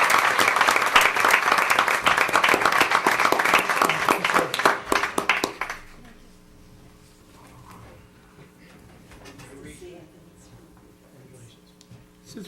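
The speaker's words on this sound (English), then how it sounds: "Let's give him a nice round of applause, everyone." Audience applause for a fire chief at a township committee meeting, loud and sustained for about five seconds before dying out abruptly, leaving a quiet room with faint murmurs.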